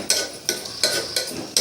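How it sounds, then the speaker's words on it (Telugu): Toor dal being stirred and fried into tomato and onions in a pan: four loud, evenly spaced scraping strokes of a utensil against the pan over a light frying sizzle, with no one talking. "ఇప్పుడు కందిపప్పును కూడా టమాటీ ఉల్లిపాయల్లోకి బాగా కలుపుకొని దీన్ని కొంచెం ఫ్రై"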